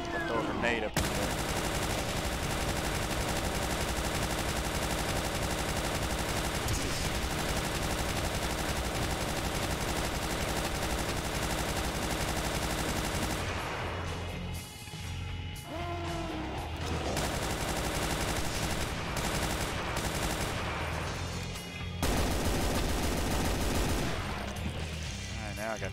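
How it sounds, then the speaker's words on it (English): Chain gun firing in Brutal Doom, a dense, continuous stream of rapid shots with brief pauses around the middle and near the end, loud and close over game effects. "I got the chain gun."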